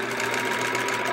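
A sewing machine stitching binding onto a quilt, a steady close mechanical whir with a fast even rhythm, running continuously without pauses or voices.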